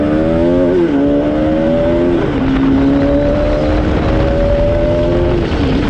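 Suzuki superbikes with loud exhausts warming up, a loud continuous engine drone holding steady pitch with several small dips and rises in revs, several machines blending together close by.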